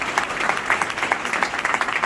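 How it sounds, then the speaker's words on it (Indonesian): A church congregation applauds a newly married couple at a wedding blessing in Surabaya, a steady, dense patter of many hands clapping throughout. "Mari kita memberikan tepuk tangan untuk keluarga yang baru terbentuk pada hari ini."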